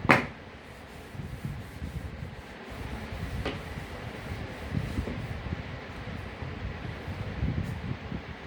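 Writing is rubbed off a classroom board, giving a steady dry scrubbing that goes on for several seconds at moderate level. A sharp knock opens it and a softer tap comes partway through.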